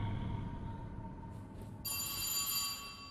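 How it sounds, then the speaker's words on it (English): A telephone rings in the At Dead of Night horror game, its ringing tone switching on partway through and continuing steadily over a low rumbling ambience, fairly quiet, with no talking. "Oh, God, the phone's ringing."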